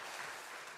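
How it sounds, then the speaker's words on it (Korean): A church congregation claps to welcome newcomers during a Sunday service: a brief burst of dense, even applause with no voices over it. "뒤에 계신데 박수로 환영하겠습니다."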